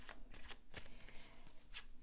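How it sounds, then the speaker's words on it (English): Tarot cards being shuffled by hand, soft repeated riffling and sliding strokes at close range, faint and steady with no talk. "while I'm shuffling, tell you two things about how I do my readings"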